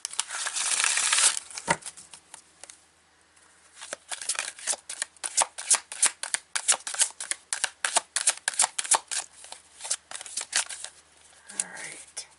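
Tarot cards are shuffled close to the mic in a quick run of crisp, rhythmic riffles and snaps, preceded by a rustling handful of cards, with a brief voice near the end.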